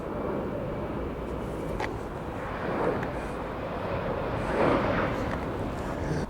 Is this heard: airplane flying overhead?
yes